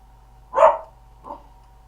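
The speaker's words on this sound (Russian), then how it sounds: "А, так на всех тявкает, кто в подъезде проходит." A small dog in an apartment yaps at people passing in the stairwell: one sharp yap followed by a fainter second one, close by against a quiet background hum.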